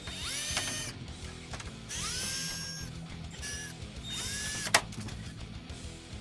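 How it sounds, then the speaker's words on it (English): A power drill spins bolts out of a car body panel in repeated bursts, whining up and down with ratcheting, close and clear over a low background hum, with a sharp metallic clank near the end. "I have to take all of these bolts out, which sucks. Thank God I have a drill."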